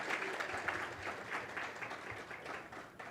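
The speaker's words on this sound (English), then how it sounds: "You can give him a round of applause" A crowd applauding at a PTK honor society pinning ceremony, a steady wash of many hands clapping at moderate distance, sustained for the whole stretch.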